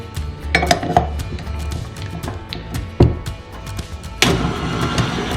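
Icing for cinnamon rolls being mixed in a bowl, a spoon or whisk clinking and knocking against the sides in irregular, close strikes over a low rumbling background.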